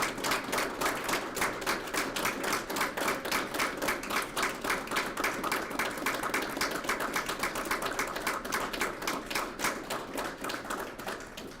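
Audience applauding and cheering at a retirement celebration, a dense, steady wall of clapping that stays loud throughout the clip.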